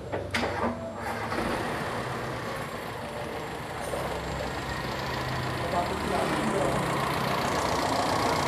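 A Toyota Kijang engine fitted with independent ignition idles steadily throughout, a continuous low rumble close by with a brief clatter near the start.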